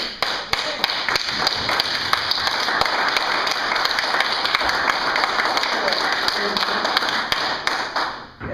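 A room at a council meeting breaks into sustained applause, dense clapping that holds steady for several seconds before tapering off, with some talking mixed in.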